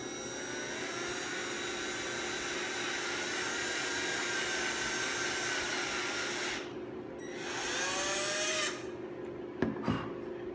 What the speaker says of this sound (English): Drill all the way through the workpiece.